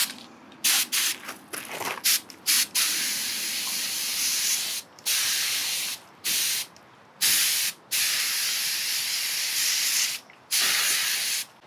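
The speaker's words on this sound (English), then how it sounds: "And now the top, and I'm also going to spray the groove" Loud, close hissing sprays come in repeated bursts separated by short pauses, each a steady airy blast of glaze from a spray gun onto a pottery fermenting crock.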